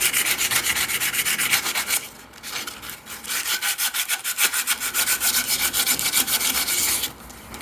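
Riveted copper nail ends on a steel spit roaster leg extension are filed or sanded smooth in rapid, steady back-and-forth rasping strokes, close and fairly loud, with a short pause midway.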